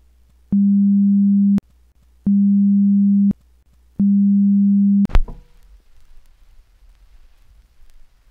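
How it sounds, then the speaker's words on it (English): Three identical steady electronic beep tones, each about a second long with short gaps, sound alone at even spacing, followed by a brief thump and faint noise. "this will start in 3 distinct tones"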